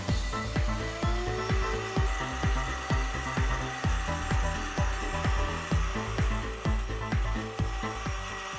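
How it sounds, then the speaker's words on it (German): A CNC milling machine cuts plywood with a 2 mm single-flute cutter. It gives a loud, steady machining whine with a rapid, regular pulsing rhythm throughout, and no one speaks. "Wir fräsen hier mit einem 2 mm Einschneider."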